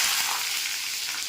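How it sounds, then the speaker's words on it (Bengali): Potatoes frying in hot oil give a steady, close sizzle with a bright crackling hiss that holds evenly for the whole moment, with no voices over it. "আলুগুলো আমি ভেজে নেবো"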